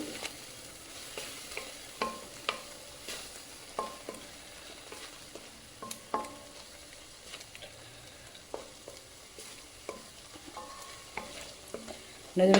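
Spice paste for a pea and potato curry fries in a pan while a spoon stirs it, giving a quiet continuous sizzle broken by irregular scraping knocks of the spoon, with no talking.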